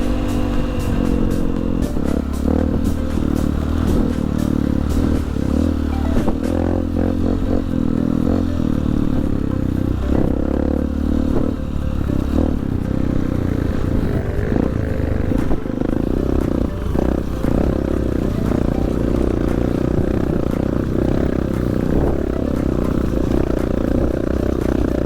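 Honda CRF 150 enduro motorcycles riding a hard trail, engines droning and revving continuously at close range, with clattering and scraping from the rough terrain throughout.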